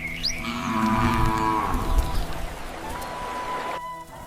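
Farm cows moo in long, drawn-out calls at dawn, a few overlapping lows carrying at moderate distance over a steady outdoor background.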